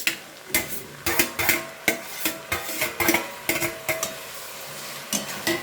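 Fried ridge gourd and boiled potatoes are stirred together in a pan for a Bankura-style jhinge aloo posto, a spoon scraping and clinking against the metal in a steady run of sharp strokes, close and alone with no talk.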